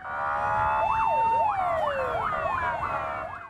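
Wailing fire engine siren, loud and close, rising and falling in quick repeated sweeps over steady traffic rumble, with no voices.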